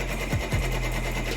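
An embroidery machine stitches an applique onto a T-shirt, a close, steady mechanical whir with two quick thumps of the needle mechanism early on.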